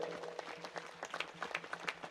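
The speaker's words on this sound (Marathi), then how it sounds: "त्यांच्याकरता एकदा जोरदार टाळी वाजवा करा" An audience at a Marathi kirtan gathering claps together, a short, faint burst of scattered hand claps lasting around two seconds.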